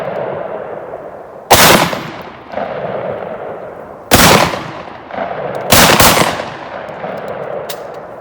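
A 10 gauge shotgun loaded with 2 3/4-inch 00 buckshot fires three loud, sharp blasts at a steel plate outdoors, spaced a couple of seconds apart at an unhurried pace, each boom followed by a short ringing tail.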